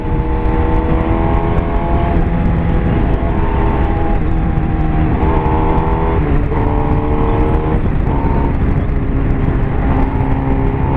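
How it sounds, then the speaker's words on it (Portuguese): Cars roll into a road tunnel during a traffic jam, with engines droning and revving loudly in echoing, continuous noise and rising engine tones throughout. "Os carros estão entrando."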